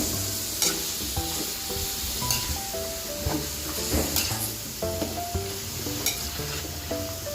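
Pork dinuguan sizzles steadily in a pan while being mixed, close and fairly loud, with repeated scraping and clattering strokes of a utensil against the pan over the constant frying hiss.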